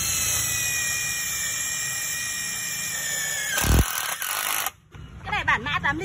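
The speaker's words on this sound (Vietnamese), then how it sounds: "Cái này thì nó là hàng không than, chạy rất là êm và là hàng 3 tốc độ nữa nên là bắn rất là ngọt nhá" A Makita brushless three-speed impact wrench runs with a smooth, high whine, loud and close, then cuts off abruptly; a short clatter follows and a voice talks over the end.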